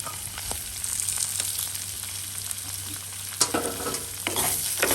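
Potatoes, onion and garlic sizzle and fry in a pan, a steady crackling hiss with a few sharper scrapes and stirring clatters near the end, no voices.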